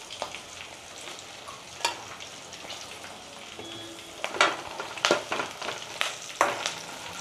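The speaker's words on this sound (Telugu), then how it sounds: "ఆ కరివేపాకు కూడా మంచిగా వేగాలి" Curry leaves and green chillies fry in an oiled pan for jeera rice, a steady close sizzle with sharper crackling bursts and spits growing denser toward the end, no voices.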